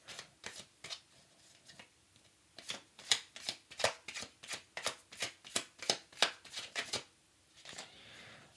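Deck of oracle cards being shuffled by hand, a run of crisp riffling flicks in quick irregular bursts, close and fairly loud, with no talking over it.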